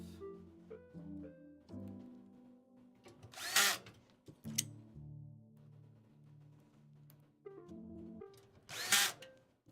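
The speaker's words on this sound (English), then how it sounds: "Just got a few more screws here." Power drill driving screws during assembly of a PC, two loud bursts of whirring a few seconds apart over a background of steady humming tones.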